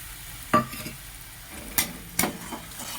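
A spoon scrapes sharply against the pan three or four times, close by, as a coriander, cumin and turmeric spice paste fries for a potato and soybean dish. A low sizzle hums underneath and nobody talks.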